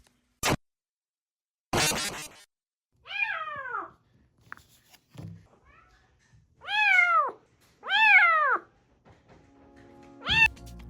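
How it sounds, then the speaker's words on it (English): A newly adopted cat meows at a door, giving several loud, drawn-out meows spaced a second or two apart, mixed with a few sharp knocks or scratches nearby. "he was right at the door, meowing the door down"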